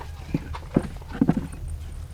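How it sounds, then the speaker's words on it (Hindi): A buffalo walking in a village, with a few dull, uneven thudding steps up close against quiet background noise. "ये भैंसिया"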